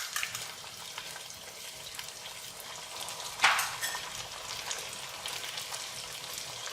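Chili paste for a village-style desi chicken curry frying in a pan, a steady low sizzle throughout with one brief sharper spatter burst midway, no talk.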